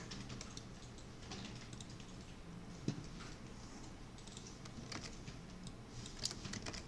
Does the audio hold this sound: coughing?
no